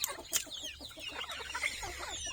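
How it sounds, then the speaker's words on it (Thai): Chickens cluck in a rural outdoor setting. The short clucks come close together and overlap, with faint farmyard noise behind them. "โอ้ ไก่"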